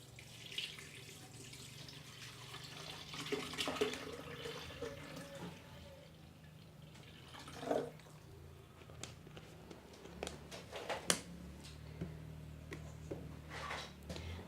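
Water runs and splashes quietly from a tap, with scattered clinks and knocks, faint and close.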